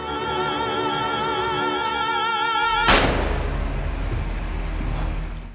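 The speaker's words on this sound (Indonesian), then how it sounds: "Suara tembakan itu terdengar jelas" Tonal music cuts off with a single sharp gunshot, followed by a lingering low wash of noise.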